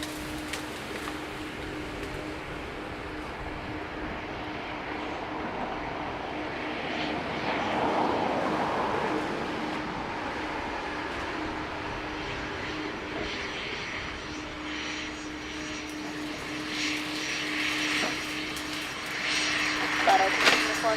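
Aircraft engines roar at Dublin Airport in a loud, continuous broadband drone that swells midway and again near the end, with faint voices underneath.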